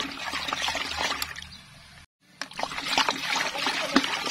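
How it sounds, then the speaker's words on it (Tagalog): Water trickles and pours into calcium nitrate fertilizer being mixed for flowering plants on a farm, a steady close splashing that stops briefly partway through, then resumes. "Lagyan muna natin ng kaunting tubig. Tapos saka nyo po i-mix."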